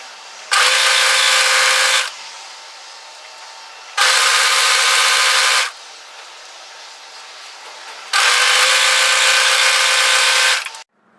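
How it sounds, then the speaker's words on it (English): An overlocker serges a seam on hoodie fabric in three loud, steady bursts of fast whirring stitching, each lasting about one and a half to two and a half seconds and separated by brief quiet gaps. "I'm going to place that to the center back piece, right sides together, and I'm going to overlock that down"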